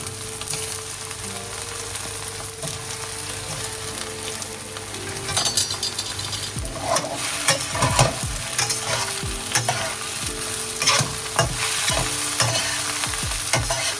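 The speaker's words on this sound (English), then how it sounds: "now I'm just gonna flash fry with the remaining aromatics" Shrimp flash fried and tossed with the remaining aromatics in a hot pan for Chinese-style salt and pepper shrimp: a steady close sizzle under repeated scraping and stirring, with sharper metallic clinks toward the end.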